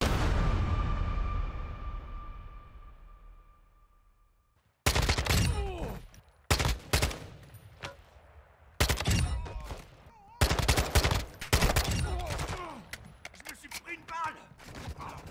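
Rapid bursts of automatic gunfire from Call of Duty Warzone DMZ, several loud clusters of shots with sharp onsets and gaps between them, coming after a fading tone and a moment of silence.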